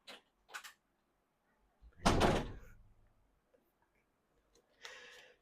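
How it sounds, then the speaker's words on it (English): Indoor door closing, a loud, close slam with a brief rattle, with a few faint clicks and rustles around it. "Can you close the door on your way out?"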